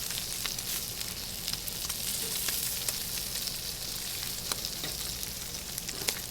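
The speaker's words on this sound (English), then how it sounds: "And we're using our Blackstone bacon press as well." Bacon sizzles and crackles steadily under a Blackstone bacon press on a griddle for fried green tomato BLTs, a continuous close hiss with scattered sharp pops and no talking.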